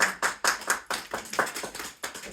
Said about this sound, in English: give yourselves a big round of applause, ladies and gentlemen